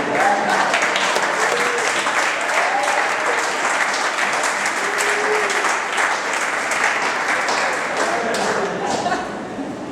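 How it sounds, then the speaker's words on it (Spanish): A church congregation applauds during a worship service, sustained, loud clapping from many people filling the room for the full stretch, with a few voices and faint tonal sounds underneath before it eases off near the end. "Denle un aplauso al Señor."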